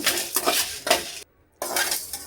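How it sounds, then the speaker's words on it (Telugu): Coriander seeds roast in a dry pan alongside a cardamom pod while a spoon stirs and scrapes them in quick bursts of rattling strokes, close and loud, broken by a brief silent gap before the stirring resumes. "బాగా వేగాలి ఇవి ధనియాలు"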